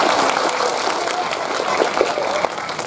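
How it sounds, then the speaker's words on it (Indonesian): Audience applause fills a village gathering at an Islamic lecture celebrating the Prophet's birthday, a steady wash of clapping across the whole moment with no voices over it. "Beri tepuk tangan untuk masyarakat desa kita."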